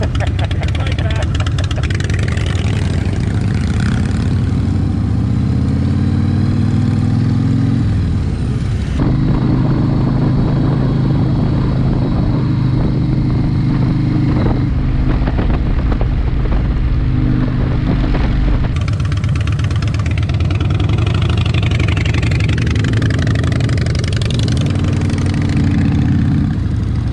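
Motorcycles idle after a rally, a loud, steady low engine rumble with pitch shifts and a brief rev, while men chat nearby under the noise.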